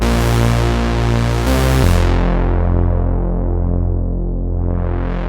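Diva synthesizer bass preset, a warm analog-style Reese-like bass, sustains a thick continuous tone whose brightness sweeps down and back up as the mod wheel moves, heard alone without talk.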